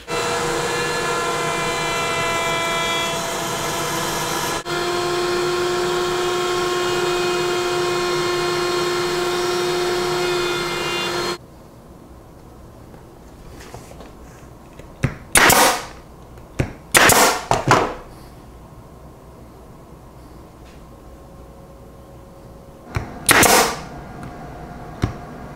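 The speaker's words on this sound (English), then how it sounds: "I'm over here at the router table and I've got a pattern routing bit." A router table with a pattern routing bit trims excess wood from a round form, first as a loud, steady high whine running several seconds, then as a few short, harsh cutting bursts separated by quieter gaps.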